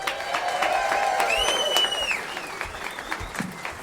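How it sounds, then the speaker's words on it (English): Comedy club audience at Comedy Works breaking into steady applause with cheering and whistles, a dense, loud wash of clapping that holds throughout before gradually thinning. "A round of applause to Christie Buchele."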